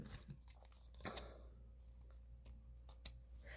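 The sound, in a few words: scissors snipping yarn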